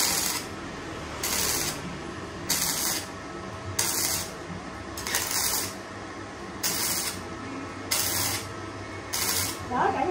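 A MIG 300S welding machine runs on thin sheet metal in about seven short, evenly spaced bursts of buzzing, crackling hiss. Quieter pauses fall between the close bursts.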